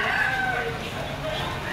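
Chickens and a rooster at the Lipa auction market fill a busy, crowded space. A drawn-out crow rises above steady clucking and dense background chatter.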